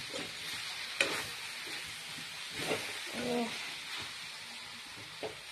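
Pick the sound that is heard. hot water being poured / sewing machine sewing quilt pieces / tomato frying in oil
tomato frying in oil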